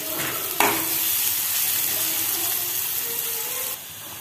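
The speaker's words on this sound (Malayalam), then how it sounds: "നമ്മൾ ഞണ്ടിൽ ചേർക്കുമ്പോൾ സവാള നല്ല ശരിക്കും വഴറ്റി വരുന്നുണ്ട്." Large sliced onions sauté in a hot pan for crab masala, a steady loud sizzle running throughout with occasional stirring, then dropping sharply in level near the end.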